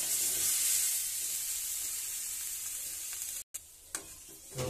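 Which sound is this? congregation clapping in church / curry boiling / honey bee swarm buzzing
curry boiling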